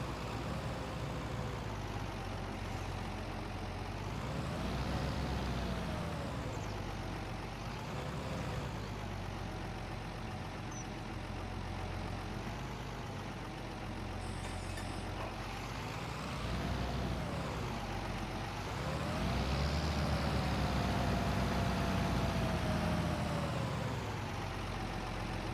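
A tractor engine idles steadily in the Farming Simulator 25 video game, a continuous broad mechanical drone with slow, rolling swells in tone that runs unbroken throughout.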